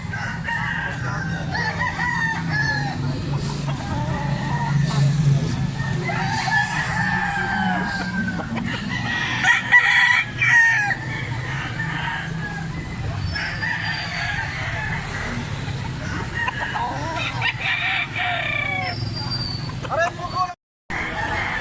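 Sweater gold gamefowl roosters crowing repeatedly nearby amid clucking, with someone talking over them throughout.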